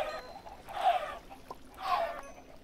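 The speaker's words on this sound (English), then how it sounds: "But I'm killing some chickens." Minecraft chickens cluck in two short bursts, one around each second mark, fairly close and clear against a quiet background, with no talking.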